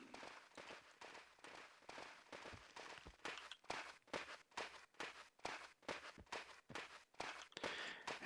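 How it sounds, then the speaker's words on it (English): Stomping feet of geonid monsters in the video game EverQuest, a rapid, steady run of thudding footfalls pounding close and loud throughout. "And you can hear their little stomping feet."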